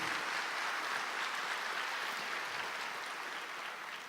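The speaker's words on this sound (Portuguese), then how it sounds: "Pode aplaudir ao Senhor." Church congregation applauding during a sermon, a steady broadband wash of clapping that holds evenly for several seconds before easing slightly, with no voices over it.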